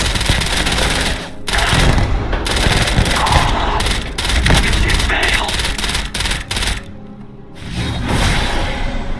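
Dense automatic fire from a Force Recon enchanted weapon in a modded DarkStar shooter game rattles loud and close in long bursts, with brief pauses and thumps between volleys, mixed with other game effects.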